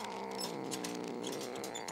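A cartoon cat meows in a short, close cry with a harmonic, whining tone, heard alone over a steady animated soundtrack background.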